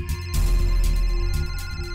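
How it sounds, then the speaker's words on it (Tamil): A phone left at home rings indoors, its electronic ringtone sounding in steady repeated bursts with no one talking. "ஃபோன் ரிங்க போகுது."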